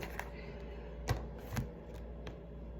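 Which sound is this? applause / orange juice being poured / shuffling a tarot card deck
shuffling a tarot card deck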